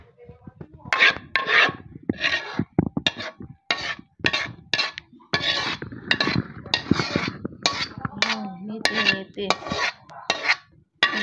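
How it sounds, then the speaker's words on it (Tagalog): Utensils scrape and clink against a pan in bursts while meaty spaghetti sauce is stirred into spaghetti noodles, a close, rhythmic rasping with short pauses between strokes. "pwede na tong i-mix sa ating spaghetti noodles"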